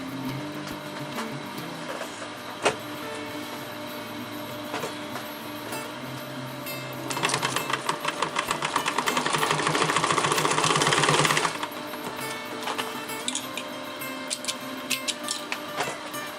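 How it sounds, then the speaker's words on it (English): A sewing machine stitching darts in fabric runs in one burst of rapid, even mechanical clatter lasting about four seconds, with quieter handling sounds before and after. "You want to sew from this end to this end. I usually do 2 to 3 stitches here."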